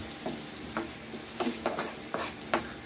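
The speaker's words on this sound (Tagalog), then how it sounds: "na-melt na yung butter" Butter melting in a pan on a home stove while cooking buffalo chicken wings, a soft steady sizzle broken by several sharp scraping stirs, close and fairly quiet.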